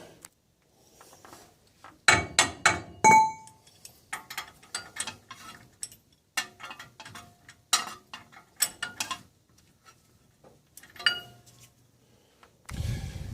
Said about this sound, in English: Try and get that positioned so I can tighten that nut up.